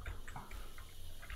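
Water runs from a kitchen tap in a steady splashing rush, close and continuous, with small gurgles and drips across the short stretch.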